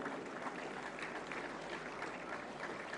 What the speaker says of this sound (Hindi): सर्वश्रेष्ठ फिल्म के लिए जोरदार तालियां।